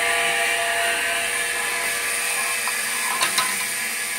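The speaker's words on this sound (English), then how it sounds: "And there it's blowing the thinners out." R404A refrigerant gas blows thinners out of a blocked refrigeration system as a steady, loud, broad hiss from close by, with a couple of brief clicks near the end.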